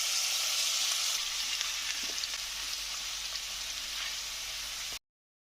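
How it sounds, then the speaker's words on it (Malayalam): Chicken dropped into hot coconut oil for a Kerala-style chicken ularthu gives off a bright, steady sizzle that stays loud and even for several seconds, then cuts off abruptly. "ഇതിലേക്ക് നമുക്ക് ചിക്കൻ ഇടാം"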